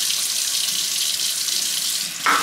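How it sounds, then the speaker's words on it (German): Tomato seeds are rinsed under a steady stream of running tap water, a close, loud, continuous hiss that shifts in tone near the end as the flow changes. "Samen jetzt unter fließendem Wasser."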